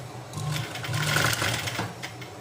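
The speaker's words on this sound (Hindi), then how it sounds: "इस तरीके से सिलाई करनी है।" A sewing machine stitches chiffon fabric in a continuous, close run of rapid mechanical clatter that holds steady for a couple of seconds, with no talking.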